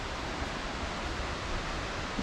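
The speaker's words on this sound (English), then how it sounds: "I'm deaf, and I can definitely hear the waterfall." Pistyll Rhaeadr waterfall pouring in a steady, unbroken broadband roar of falling water, close and fairly loud, with no voices over it.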